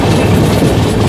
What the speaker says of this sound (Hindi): Lucknow new Delhi Tejas express.